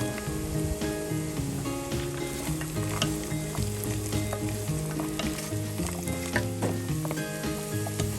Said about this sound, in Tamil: இப்போ முந்திரி பருப்பு 2 டேபிள் ஸ்பூன் சேர்த்து ஃப்ரை பண்ணுங்க.